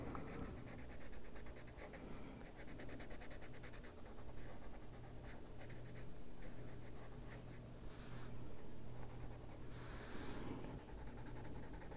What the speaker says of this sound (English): It's just a marker. I'm going to go under the ruffle and darken that.